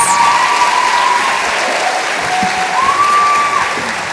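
A crowd applauding graduates of a College of Continuing and Professional Studies at a celebration of achievement ceremony, dense steady clapping with a brief cheer or whistle rising above it.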